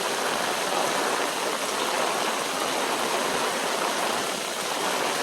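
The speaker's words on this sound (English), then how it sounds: "it's blowing the water out. You can see it just blowing it out right through the drain and up through the gravel." Water gushing out of a French drain and up through gravel at a retention pond during moderate rain, a steady loud broadband rush like a stream, constant and close, with no voices.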